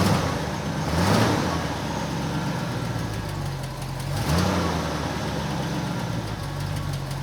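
A 1963 Ford Galaxie 500 engine revs up twice and settles into a steady idle between, loud and close, with no talking.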